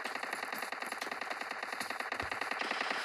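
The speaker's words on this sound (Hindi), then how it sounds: "सामने गोली चल रहा है" Rapid bursts of automatic gunfire crackle continuously with scattered single shots, dense and loud throughout, a PUBG video game firefight.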